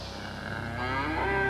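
A cow moos on a Somerset farm, a single close, drawn-out low call that grows louder over about a second and a half, heard alone without talk.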